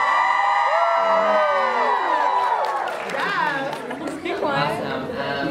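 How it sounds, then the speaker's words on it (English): A crowd cheers and whoops loudly on a host's cue at a fan gathering, a dense wall of shouting voices and excited squeals filling the whole stretch, with individual high yells rising out of the roar. "So if y'all can cheer when I say go,"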